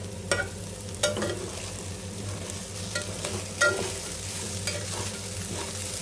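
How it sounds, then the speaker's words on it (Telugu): Sliced okra frying in an open pan with no lid, a steady close sizzle running throughout, with a few sharp clicks and scrapes of stirring. "ఇది ఇంకా కొద్దిగా ఫ్రై అవ్వాలన్నమాట. నేను అసలు లిడ్ పెట్టలేదు, లిడ్ పెట్టకుండా ఫ్రై చేసుకున్నాను."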